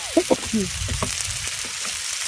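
Mustard paste with turmeric frying in oil as it is stirred, a short close burst of sizzling with a few spoon scrapes, plus a brief faint voice-like tone at the start.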